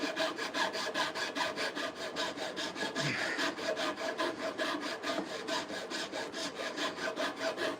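Rasping and sawing at a wooden handsaw handle being reshaped, a steady rhythmic back-and-forth of roughly four strokes per second, close and continuous with no talking.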